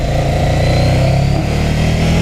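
The engine of a 2015 Ducati Scrambler motorcycle on the move, a loud, steady, throaty drone with a close, gritty buzz that holds without break and with no talking.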